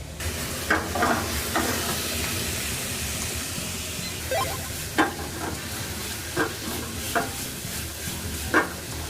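Spicy Korean pork jeyuk being stir-fried in a pan in a delivery restaurant kitchen, a steady low sizzle with scattered clinks and scrapes of the spatula against the pan, moderately quiet, no talking.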